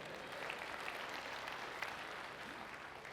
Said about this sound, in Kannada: ಒಂದು ಜೋರಾದ ಚಪ್ಪಾಳೆ ಇರಲಮ್ಮ.